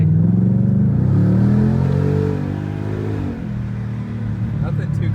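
A Ford Mustang GT with the 5.0-litre Coyote V8 and 10-speed transmission accelerates with a strong, rising engine note that climbs close and loud, then drops back as it shifts, while people talk over it.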